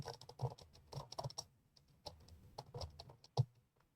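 Quick, steady keystrokes tap on a computer keyboard, with short bursts and brief pauses, close and fairly quiet, no voices.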